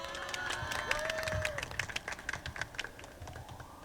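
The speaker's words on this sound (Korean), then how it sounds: "박수 부탁드리겠습니다" Applause from a labor union rally audience at a protest gathering, scattered clapping that thickens then thins into individual claps, with a faint voice and a brief tone near the start.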